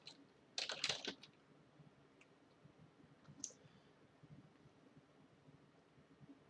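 A command typed on a computer keyboard while debugging an Android SDK setup: a short quick run of close keystroke clicks near the start, then a lone tap and soft scattered clicks over quiet room noise.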